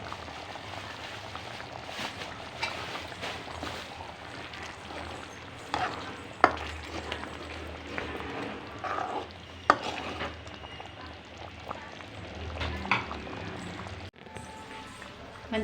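Curry masala for meal maker and potato kofta curry stirred and mixed in a pan, a soft continuous scraping and bubbling with occasional sharper knocks, low and close.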